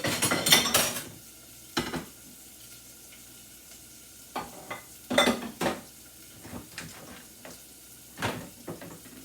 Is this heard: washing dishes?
yes